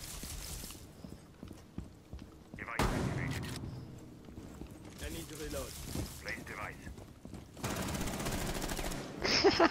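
Bursts of video game gunfire crackle in short broadband stretches, loud and close, broken up by gaps and mixed with game effects, while players talk over the action.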